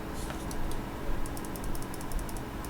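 A few crisp, light clicks of a Razer computer mouse's side back button, spaced apart against a steady background hiss, close and distinct, with no talking.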